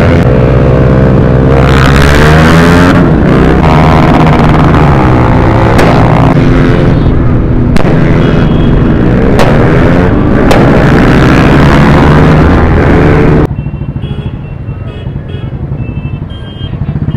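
Firecrackers go off at a crowded motorbike meetup: several loud, sharp bangs at irregular intervals over constant roaring and revving engines, with people talking in the background.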